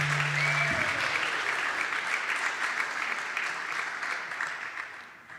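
An audience at a poetry event applauds in a sustained, even wash of many hands clapping, gradually tapering toward the end.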